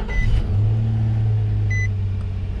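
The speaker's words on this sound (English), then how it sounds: "Let me start this guy up so the buzzer goes away." A 2006 Nissan Xterra with nearly 184,000 miles cranks briefly and catches, settling into a steady low idle hum, with a couple of faint chime beeps from the dashboard heard above it.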